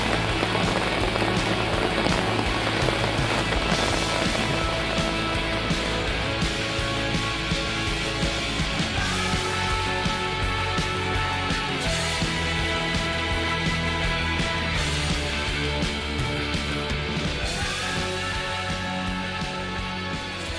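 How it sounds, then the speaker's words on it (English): Hail drumming on a car during a thunderstorm while fishing, a dense, steady patter of hard drops striking the vehicle throughout, loud and continuous with no voices. "now she's hailing"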